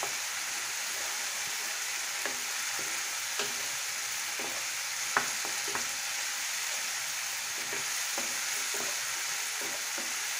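Spice paste fries in oil with a constant close hiss and crackle, punctuated by occasional spatula scrapes and taps against the pan.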